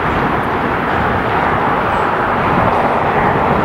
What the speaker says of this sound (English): All right, we got a plane landing, and then I'm gonna get out of here.